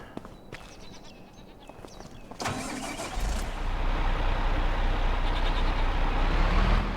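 A tractor in Farming Simulator 25 cranks with a short starter burst, then its engine catches and settles into a steady, loud diesel rumble, with faint farm animal bleats in the background.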